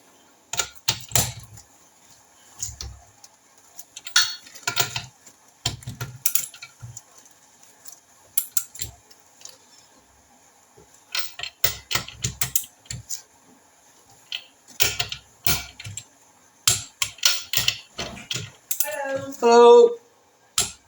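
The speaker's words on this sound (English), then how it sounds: "Get the torque wrench round the right way." Torque wrench work on the crankshaft of a Triumph Trident T160 engine rebuild: scattered metallic clicks and taps in irregular clusters, close by, with a speaking voice intermittently present.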